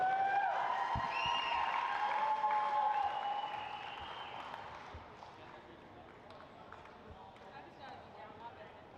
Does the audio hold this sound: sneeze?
no